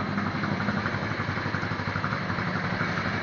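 A motorcycle engine idles steadily, a continuous low rumble with an even, slightly pulsing throb and no other sounds.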